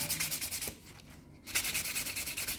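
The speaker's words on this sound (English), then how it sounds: "Now what this sanding block does is it takes the scratches out" Rhythmic rubbing strokes of a sanding block smoothing scratches from a fingernail during an ombre manicure, a steady scratchy back-and-forth with a brief pause in the middle, close and fairly quiet.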